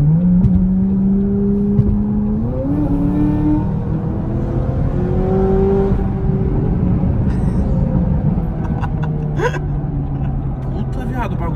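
A McLaren sports car accelerates along a Miami Beach street, its engine note rising in steady stepped pitches through the gears, loud and close from inside the cabin, with people talking over it.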